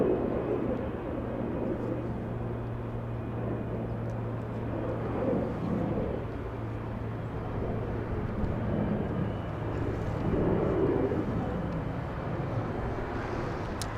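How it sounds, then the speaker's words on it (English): A Boeing 757 airliner on runway 24 left at Los Angeles International Airport, a distant steady engine rumble and roar with a low hum, swelling slightly at times and heard alone. "We have a 757 lining up on runway 24 left,"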